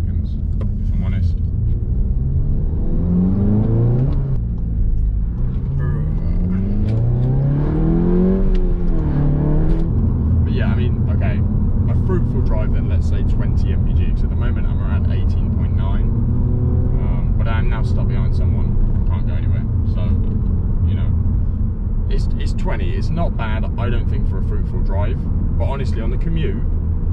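A Seat Leon Cupra driving away from a fuel station, its engine droning steadily throughout with rising revs early on, while a person talks over it almost continuously.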